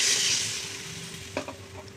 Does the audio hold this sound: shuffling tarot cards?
no